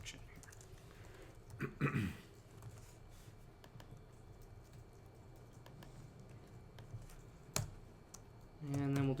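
Quick, light keystrokes on a computer keyboard during a live web-coding class, tapping softly and fairly close, with a person talking over parts of it.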